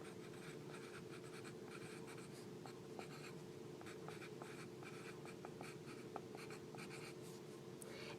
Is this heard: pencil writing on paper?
yes